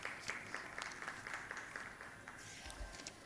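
Audience applause at an Urdu literary conference in Pakistan, a steady wash of clapping from a seated crowd that holds at an even level throughout, with no talking over it.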